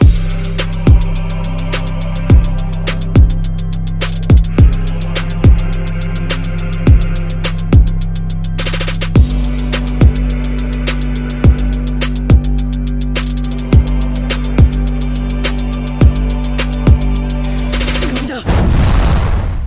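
Shinra Tensei blast effect from the Naruto anime, heavy repeated booming hits over a deep sustained bass drone that drops in pitch midway, loud and regular, ending in a final burst.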